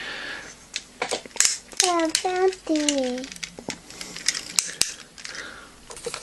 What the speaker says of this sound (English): The knees are sort of double ratcheted, so they will go quite some distance.